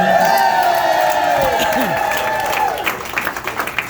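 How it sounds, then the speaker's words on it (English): Crowd at a political fundraiser applauding and cheering loudly with whoops, the noise tapering off toward the end into scattered claps and voices. "A round of applause."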